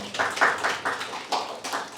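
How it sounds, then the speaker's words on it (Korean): A church congregation claps for one another in a festive moment, a dense run of overlapping hand claps with soft pulsing swells, fairly close and sustained, with faint voices beneath. "우리 다시 한번 서로를 향해서 박수 쳐볼게요."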